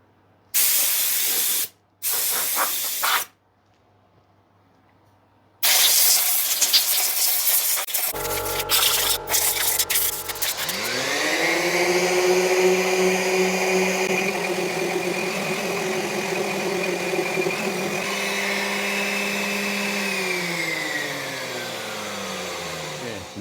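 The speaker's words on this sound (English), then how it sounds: "I'm going to hook the vacuum cleaner up instead of this" A sander connected to a vacuum cleaner for dust collection: a few short handling knocks and bursts, then a loud steady whining roar that starts up, holds for several seconds and begins winding down at the end.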